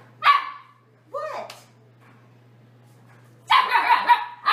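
A dog barks and yips during a bath, giving a few loud, close, sharp barks separated by quiet pauses, then a longer burst of whining, complaining barks.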